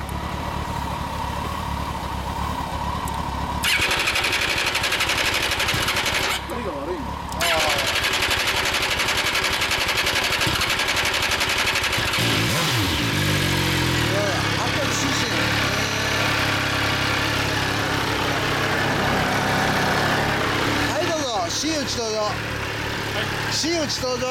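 A motorcycle engine idles with a steady, throaty rumble, occasionally revved, while people talk nearby over the running motor.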